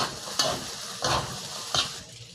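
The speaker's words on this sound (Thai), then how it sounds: "เราก็ผัดไปจนข้าวเม็ดล้วนนะครับ ตามที่เราต้องการนะครับ" Fried rice with fermented pork and kale being stir-fried over medium-high heat, with three rhythmic bursts of spatula scraping and tossing over a low crackling sizzle and no voices.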